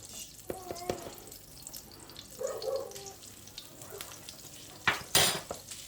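Flour cooks in a hot pan for a spinach dip sauce, a soft sizzle under scattered spoon clicks and scraping stirs, with a faint murmur partway through and a sharper clatter near the end.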